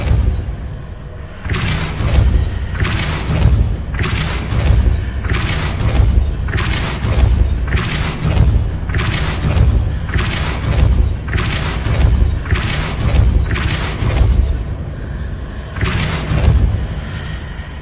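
Repeated Depulso spell impacts in Hogwarts Legacy land as a string of heavy booming thuds, roughly a dozen evenly spaced blasts over a constant low rumble, loud and close with no talk.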